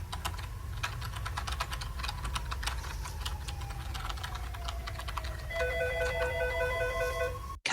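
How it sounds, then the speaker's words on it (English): Rapid computer keyboard typing clatters steadily in an office, joined partway through by an electronic telephone ring with repeated tones, both fairly close and clear with no voices. "a woman is at her computer typing as she answers the phone."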